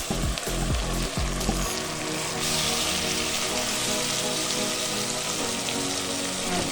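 Tomatoes hit golden-brown onions frying in oil, breaking into a loud, even sizzle that crackles on steadily after a few clunks of the pan at the start, with no voices.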